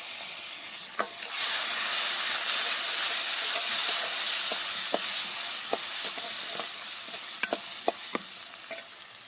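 Potato sautés in a tempering of mustard, cumin, dried onion and green chilli, a loud steady sizzle broken by sharp scraping taps of a spoon stirring the pan.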